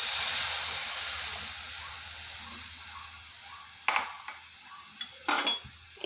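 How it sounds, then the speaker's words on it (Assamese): A full cup of milk is poured into a wok while making semolina gulab jamun, giving a loud hissing sizzle that fades over several seconds, followed by a few light clinks of utensils. "তো এইটো কাপত মই ফুল একাপ গাখীৰ লৈছোঁ। এইখিনি মই এতিয়া একেখন কেৰাহীতে ঢালি দিম।"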